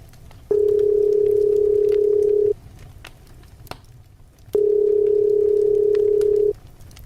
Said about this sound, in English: Quickly, with a slight sense of anticipation, he dialed your number.